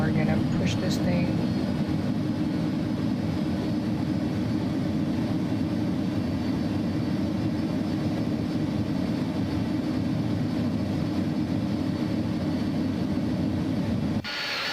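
An Airbus A300 cargo plane in a flight simulator is pushed back, giving a steady loud engine rumble and hum throughout, with a faint rising tone near the start and no talk.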